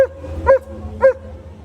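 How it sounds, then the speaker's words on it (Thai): A rescue dog gives three short, sharp barks about half a second apart, close and clear over a low steady background hum. "ถ้าเจ้าโอเลี้ยงเห่าสามทีเนี่ยแปลว่าพร้อมทำงานแล้ว"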